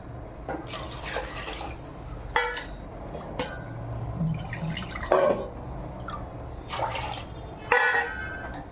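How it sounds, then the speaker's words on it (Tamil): Water splashes and trickles into a pot of rice and lentils in a few uneven pours, close and fairly soft, with small drips and clinks between them. "ஒரு 3 இது தண்ணி ஊற்றுங்க"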